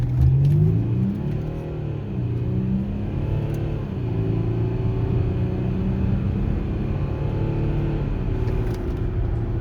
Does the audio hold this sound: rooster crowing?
no